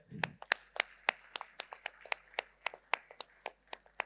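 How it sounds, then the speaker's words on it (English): A handful of people clap at a women's T20 cricket league event, sparse distinct claps at an uneven rhythm, fairly close and quiet. "We need to clap for that, guys."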